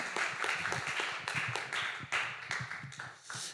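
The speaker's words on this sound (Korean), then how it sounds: "우리 감사의 마음으로 크게 박수로 맞이해 주시면" A church congregation claps to welcome a visiting pastor, a fairly quiet, quick patter of many hands at a steady pace.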